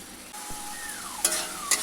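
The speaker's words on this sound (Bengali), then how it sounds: "আদা রসুন পেঁয়াজটা ভালো করে ভেজে নেবো যাতে কাঁচা গন্ধটা কেটে যায়" Ginger, garlic and onion paste frying in a pan, a soft continuous sizzle broken by a couple of sharp scraping stirs near the end, with no talking.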